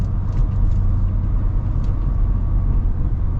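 A Jeep Gladiator 392 with its 6.4 Hemi V8 and 37-inch tires gives a steady, deep, low rumble heard from inside the cab, with no talk over it.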